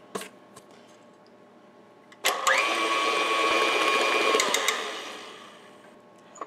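Electric beaters whirring through devil's food cake batter with eggs, a steady mechanical drone that starts abruptly after a couple of quiet seconds, holds for roughly two and a half seconds, then winds down with clicks.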